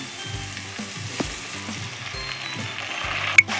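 Onions frying in a pan for a village-style egg curry, a steady close sizzle with light stirring scrapes and a brief sharp clatter near the end, no talk.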